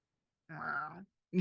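A person's voice imitates a cat with one drawn-out meow, close and fairly loud, followed after a short pause by the start of another vocal sound.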